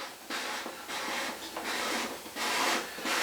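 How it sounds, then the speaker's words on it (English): A carbon wing tube slides into an OMP Hobby Super Decathlon RC plane: repeated close, dry rubbing scrapes in short bursts, with no talk. "So, in goes my carbon tube."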